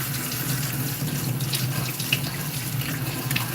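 Peppers, including habaneros and green peppers, are washed under a running kitchen tap, a steady close splash of water into the sink with no talking.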